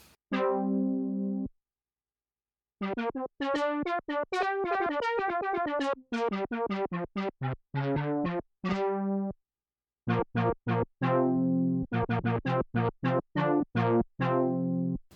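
A Behringer Wave synthesizer brass preset plays bright, brassy stabs in short punchy chords, first a held note, then a quick funky riff with gaps between phrases.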